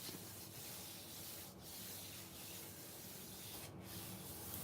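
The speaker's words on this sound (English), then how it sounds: "And I'm going to pull my print." Paper print peeled off a gel printing plate for a junk journal cover, a soft continuous rubbing, peeling rasp heard close and alone, with two brief dips in the sound.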